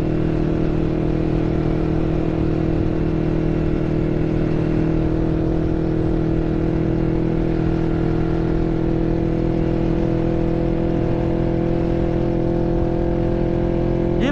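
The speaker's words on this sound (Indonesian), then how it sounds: "Gila motornya Gibran kenceng cok." A Kawasaki ZX25R or Honda CBR250RR sport motorcycle runs on a race track, its engine a steady, loud droning whine held at high revs for the whole stretch, with no voices.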